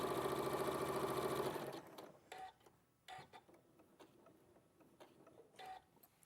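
Sewing machine stitching fabric during quilting with a quarter-inch seam, a loud rapid mechanical whir that stops after about two seconds, followed by faint clicks and handling.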